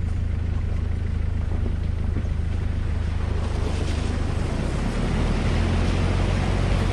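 A four-wheel drive fords the Humphrey River on a bush track, with steady loud water splashing and rushing around the vehicle under engine rumble, swelling louder toward the end.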